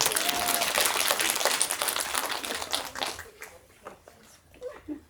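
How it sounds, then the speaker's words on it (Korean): An audience at a school information session applauds loudly at first, the dense clapping thinning into scattered claps and fading toward the end, with faint voices underneath. "박수 주세요."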